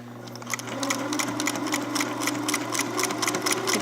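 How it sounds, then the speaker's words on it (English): An old sewing machine stitches at a fast, steady, rattling pace, close and continuous for a few seconds with no talk. "It sounds pretty good for an old machine."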